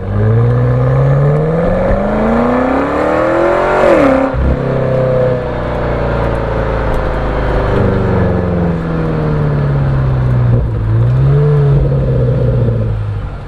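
A 2024 BMW X5 M Competition SUV engine, 616 horsepower, revs loudly and rises in pitch before dropping through downshifts, with several sweeping climbs and falls, close and continuous.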